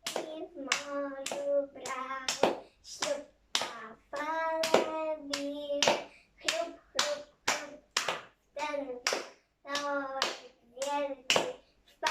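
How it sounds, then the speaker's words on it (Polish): Hands clap in a steady rhythm to a Polish counting rhyme, sharp claps falling between the syllables of a chanting voice, close and clear against otherwise quiet surroundings. "To polega na tym, że ręce muszą klaskać"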